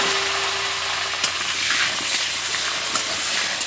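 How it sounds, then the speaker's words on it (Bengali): Potato pieces fry in a pan of hot oil that was already used to fry fish roe, giving a steady close sizzle with light stirring clinks and scrapes, with no voices. "এই তেলের মধ্যেই আলুগুলো আমি ভেজে নিই"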